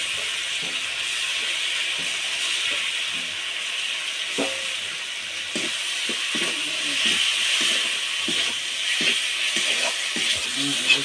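Cumin, mustard and onion paste with a little sugar frying in a hot pan, giving a steady, close sizzling hiss throughout with faint scattered pops and clinks.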